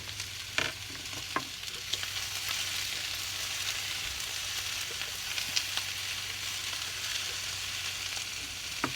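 Chopped onions fry in a pan on a stovetop burner for chop suey, a steady close hiss and crackle with a few sharp clicks of stirring and no talking.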